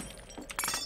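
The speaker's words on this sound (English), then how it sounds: "Breaking glass." Glass shattering in The Hidden, a short crash with bright, scattered high fragments near the end of a brief moment.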